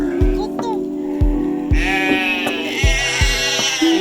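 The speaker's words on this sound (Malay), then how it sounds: "Itulah kami biri-biri. Sana tu biri-biri." Sheep at a mini zoo bleat loudly and close, long wavering calls over a steady rhythmic thumping background, with people talking nearby.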